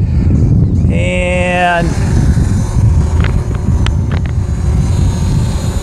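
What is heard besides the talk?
DJI Mavic Pro drone taking off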